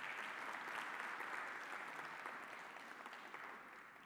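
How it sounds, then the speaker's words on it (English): Conference audience at the ECF-SADC annual general meeting applauding the keynote speaker, a steady wash of many hands clapping from a distance, fairly quiet and continuous for several seconds. "Let's give our keynote speaker another round of applause."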